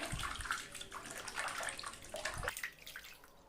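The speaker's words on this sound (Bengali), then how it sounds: "মাছটা দিয়ে জলের ভিতর দিয়ে ভালোভাবে ধুয়ে নিতে হবে" Fish are rinsed in a bowl of water, with close, soft sloshing and swirling that comes in uneven handfuls, quiet and alone without talking.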